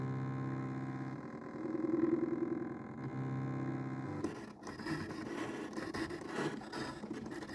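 A Brother ScanNCut cutting machine runs its depth check and cut with a steady tonal motor whir. Partway through, it shifts into a busier, rougher scraping and buzzing as the blade moves. Nothing else is heard.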